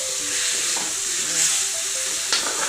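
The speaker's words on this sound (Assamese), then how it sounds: "চলাই যাম চামুচ" Fish curry with potatoes sizzling in a pan as a spoon stirs it, a soft, steady frying hiss with occasional scraping clinks of the spoon, fairly close and quiet.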